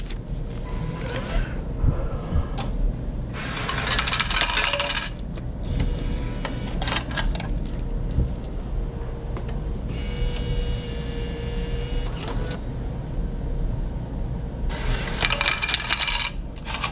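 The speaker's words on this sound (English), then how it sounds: "sometimes I like to test my change machines, make sure they're working" A laundromat coin change machine dispenses coins, with repeated bursts of bright metallic jingling clatter against a steady mechanical hum and background room noise, close and loud, no talking.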